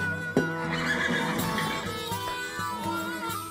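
A horse in a stable lets out a loud, wavering whinny close by, followed by a few faint knocks and hoof sounds in the stall.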